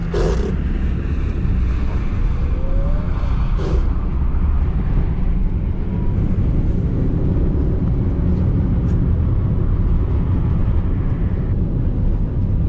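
Car drifting on an ice track, with a loud, steady engine and road roar that continues without a break and is heard from inside the vehicle.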